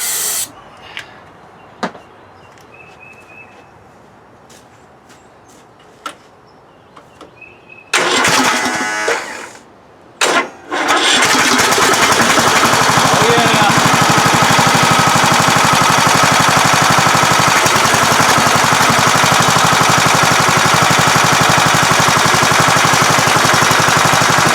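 A previously seized Kohler Courage engine on a Craftsman LT2000 lawn tractor cranks in short bursts, catches, and roars into a loud, steady close-up idle, with no valve cover fitted, after a stretch of quiet clicks.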